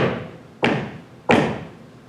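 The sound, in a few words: knocking on a door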